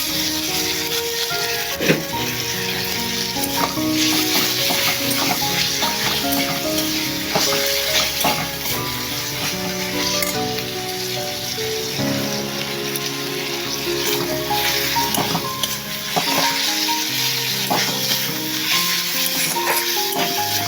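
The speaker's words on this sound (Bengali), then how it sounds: "আদাটা রসুনটা টমেটো ভালো করে শুকিয়ে নেব" Ginger, garlic and tomato frying in a pan for vegetable khichuri, a continuous dense sizzle with scattered stirring scrapes and clicks, steady and close throughout.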